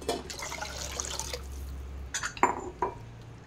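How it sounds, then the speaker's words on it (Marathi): Water is poured from a bowl into a soup pot, a brief gushing splash followed by a few scattered drips and small clinks, fairly faint and close with no voices. "यात मी पाणी टाकून घेते"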